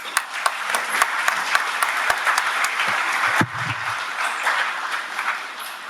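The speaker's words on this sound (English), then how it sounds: "Another round of applause." An audience claps after a guest speaker at a university job fair, with scattered sharp individual claps within a sustained round of applause that dips briefly partway through.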